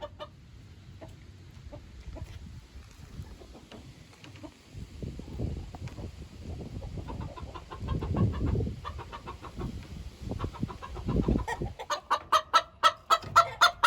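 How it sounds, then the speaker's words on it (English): Backyard chickens, including barred rocks, clucking near and far, building into a rhythmic series of loud repeated cackles toward the end, like a hen's egg song. "that sounds like an egg song"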